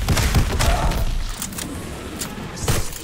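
Explosive bomb blasts in a Call of Duty zombies match on the Season 5 map The Archon: dense rumbling booms and gunfire-like cracks fill the whole stretch, loud and continuous, with several sharp bursts.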